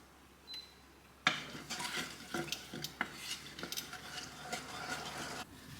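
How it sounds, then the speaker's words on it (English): A spoon scrapes and clinks around a pan of sausage gravy simmering over low heat, with irregular stirring knocks over a soft bubbling sizzle, close and fairly quiet. "So I'm just going to let this go over low heat until it thickens up a little bit"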